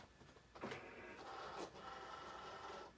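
An electronic craft cutting machine gets ready to cut, giving a faint mechanical whir and buzz of its motor that starts after a short pause and runs steadily with a couple of brief shifts.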